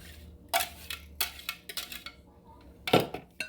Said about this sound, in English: And then you stir that up.